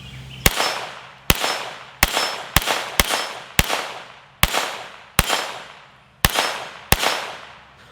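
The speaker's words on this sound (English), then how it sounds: "Let's put some more ammo in it. We need to do some more shooting." Pistol shots fired one after another, about ten loud sharp cracks at irregular intervals, each followed by a ringing decay, with no talking.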